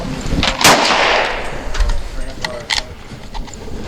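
A V Seven Enlightened rifle fires at a shooting range: one sharp, loud report with a rolling echoing tail, then fainter pops and clanks while someone talks over it.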